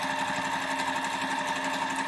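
Sewing machine stitching a holiday stocking, a steady rapid whirring hum with fine rhythmic needle ticking, close and continuous.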